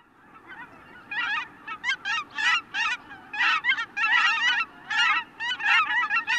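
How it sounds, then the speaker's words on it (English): Cackling geese give a rapid series of high, squeaky honks in clustered bursts, many calls overlapping at close range over a low, steady background hum near coastal bays. "That's the sound of the cackling goose."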